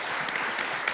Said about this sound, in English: I just want to give Harry and Jonah a big round of applause for putting this together.